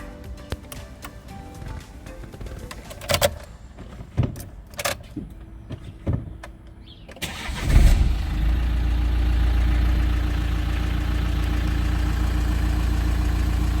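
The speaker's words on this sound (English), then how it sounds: "let's start the engine up, let it run for a while." Clicks and clunks, then a Nissan Juke engine with a cleaned mass air flow sensor cranks and catches around the middle, settling into a steady, loud idle that continues to the end.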